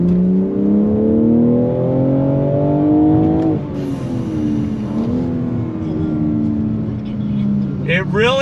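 A 2022 BMW M4 Competition sports car on track revs hard, its engine pitch climbing steadily, then dropping sharply with a downshift under braking before pulling again, heard up close from inside the car while someone talks over it.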